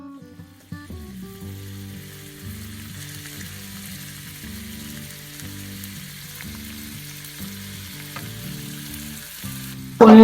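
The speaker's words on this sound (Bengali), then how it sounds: "পনিরগুলো ময়দায় কোট করা হয়ে গেছে, এবার আমি এগুলোকে সাদা তেলে ভেজে নেব" Flour-coated paneer cubes fry in white oil in a kadai on a gas stove, giving a steady sizzle under a constant low tonal hum throughout, with a louder clatter at the very end.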